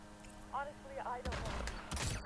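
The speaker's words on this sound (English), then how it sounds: "is he trying to shoot me like far away with a shotgun?" Distant shotgun blasts in the video game Hitman: Absolution, two or three broadband bangs in the second half, preceded by short tonal game sounds.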